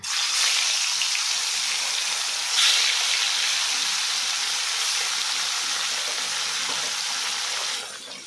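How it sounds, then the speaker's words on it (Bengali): Pieces of silver carp sizzle steadily in hot, smoking oil, a loud continuous hiss and crackle that holds at an even level before easing off near the end. "এবার একটা একটা করে মাছ আমি তেলে দিয়ে দেবো"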